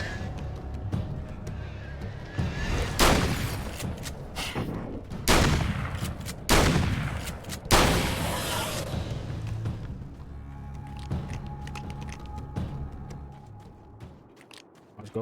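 Gunfire in Alan Wake's American Nightmare: a handful of loud, separate shots spaced a second or two apart, each ringing out in a quiet, tense scene, with a faint hum between them.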